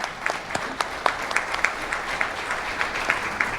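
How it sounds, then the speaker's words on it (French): Applause from an audience at the opening of a law fair, a moderate crowd clapping steadily with a few sharper individual claps standing out near the listener. "Je vous demande de l'applaudir, s'il vous plaît."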